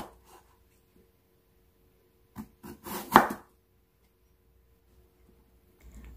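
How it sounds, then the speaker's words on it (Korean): A knife thinly slicing sweet potato for fritters, a short cluster of crisp cuts against a board in the middle of an otherwise quiet moment, close and fairly soft. "고구마를 얇게 썰어주세요"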